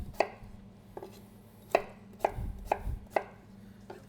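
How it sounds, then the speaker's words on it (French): Knife chopping potatoes roughly on a cutting board, a handful of sharp, close thuds spaced unevenly, with low rumbling handling noise in between and no talk. "On va couper nos pommes de terre."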